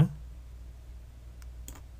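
A computer mouse clicks twice in quick succession while someone works in Blender 3.0, the clicks faint and close against a quiet room.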